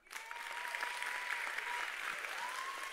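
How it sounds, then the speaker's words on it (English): A church congregation breaks into sustained applause, a dense patter of many hands that swells quickly and holds steady, with a faint tonal whine running through it. "Can y'all clap one more time?"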